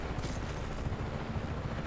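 Helicopter rotor drone in the open-world action game Just Cause 3, a steady low rumble that holds at an even level with no pauses.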